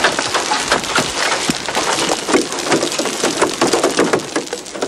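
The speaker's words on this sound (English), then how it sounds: "As we enter the storm, the heavy rain turns to hail." Hail pelts a storm chasers' vehicle in a thunderstorm, a dense, continuous clatter of hard impacts drumming on the body and glass, loud and close, with no pause.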